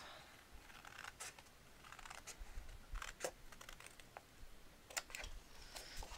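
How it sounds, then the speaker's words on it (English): Scissors snipping a paper flap off a handmade album: quiet, close, irregular crisp snips and rustles over a soft background hiss, with no voices. "And then I'm going to cut this flap off."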